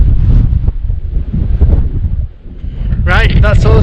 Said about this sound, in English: Not too bad with the wind, definitely doable, but yeah, probably too windy for the drone